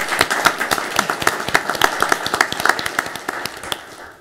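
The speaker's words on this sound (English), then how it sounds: "we'll give her a big round of applause" Applause from a modest group, individual claps distinct and rapid, a lively pattering that gradually thins out.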